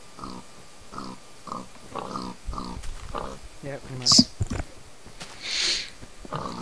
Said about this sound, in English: we're just going to slay all the pigs and then take their meat and then make them breed again